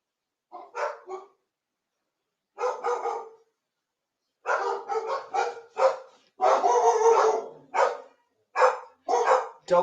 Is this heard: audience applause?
no